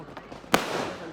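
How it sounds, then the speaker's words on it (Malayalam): Firecrackers bursting at a church festival: one sharp, loud crack after a fainter earlier pop, set against a low background murmur. "പടക്കം പൊട്ടുന്നുണ്ട്"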